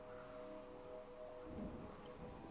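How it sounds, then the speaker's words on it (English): Soft, steady rain from the video game RimWorld, a faint even patter with a low rumble swelling midway, heard alone without voices. "And also, it's raining anyway."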